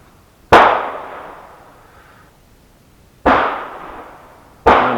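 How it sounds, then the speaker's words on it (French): A CZ 457 American .22 LR rifle fires three sharp, close shots, each followed by a short fading ring, with uneven gaps between them. "Tu tires dans celle de droite, Dylan?"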